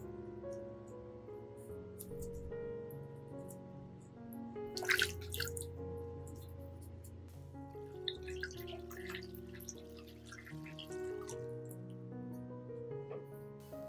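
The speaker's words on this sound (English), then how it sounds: "I will rinse the entire orchid with clean water" Clean water rinsing over an orchid plant, with steady trickling and dripping, a few splashy bursts near the middle, heard quietly under a continuous musical background.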